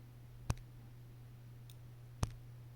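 Two sharp mouse clicks on a refresh button in a trucking game, well spaced over a few seconds against a quiet, steady electrical hum.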